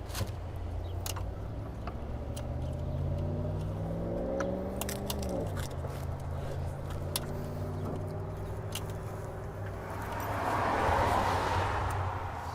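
A 1969 Ford F100 engine, abandoned for 30 years, is turned over slowly by hand, giving steady low mechanical churning with creaks and scraping clicks, a rising rushing swell near the end and no talk.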